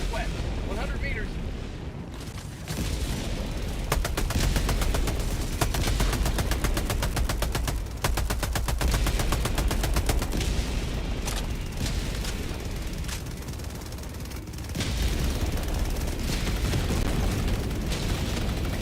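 Relentless video game gunfire and explosions rattle on with rapid automatic bursts and heavy booms, loud and continuous, as a sentry is called down and a walking barrage strikes at gunships; a voice speaks under the din.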